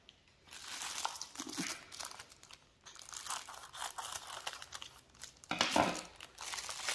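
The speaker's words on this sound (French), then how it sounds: "Désolée pour les bruits de plastique." Plastic packaging crinkling and crackling up close while a small object is unboxed for diamond painting, with irregular bursts of rustling and a sharper crunch near the end, no speech.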